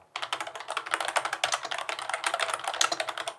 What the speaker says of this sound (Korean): 일단은 쳐봤을 때는 기계식은 아니고 멤브레인 키보드 같아요.